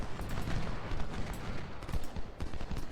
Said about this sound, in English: Some pretty devastating volleys.